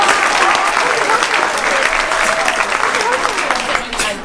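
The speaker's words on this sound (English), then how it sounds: "Let's give a round of applause to our participants." Loud, sustained applause from an audience at a school creative event, a dense steady wash of many hands clapping close by that holds for several seconds before easing off at the end.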